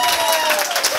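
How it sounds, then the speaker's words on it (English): Short burst of audience clapping at an indoor business opportunity meeting, dense and fairly loud, with some crowd noise blended in. "Can we give the Kalindas a round of applause"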